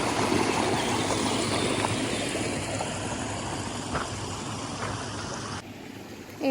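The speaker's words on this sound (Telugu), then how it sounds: "ఇంకా వాటర్ అయితే ఇట్లా వస్తున్నాయి." Water flows steadily along a stream near caves, a continuous broadband rush that stays loud and close for most of the stretch, then thins abruptly near the end.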